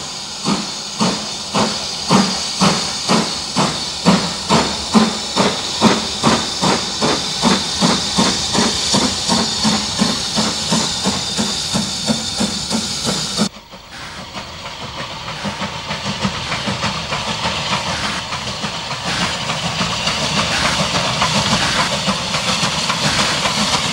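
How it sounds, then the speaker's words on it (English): A Spanish narrow gauge Engerth-type steam locomotive, number 12 of 1920, hauls a train up a valley, its exhaust chuffing in a loud, regular beat under a steady hiss, then the beat stops and hissing and rolling wagons continue. "Engerth number 12 of 1920 heads the 1530 Corio up the valley."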